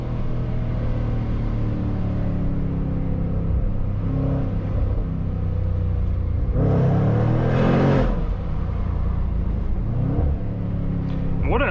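Jaguar F-Pace SVR SUV with a V8 engine pulls hard through the gears, a steady loud rumble rising into a surging roar near the middle with one brief rev late on, heard from inside the cabin.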